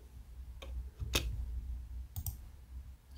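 A few sharp, quiet clicks from an F4 key pressed on a computer keyboard, spaced irregularly over a low background hum.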